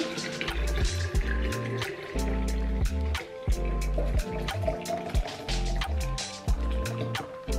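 Red juice being poured into a container, a steady close liquid splash and trickle running for several seconds, with no talking.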